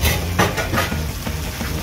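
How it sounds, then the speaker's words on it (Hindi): Boiled red beans being stirred into a frying masala in a pot, producing a brief dense sizzle with wet spoon strokes and soft scraping, close and steady. "इसको हम अच्छी तरह से मसाले में मिक्स करते हैं।"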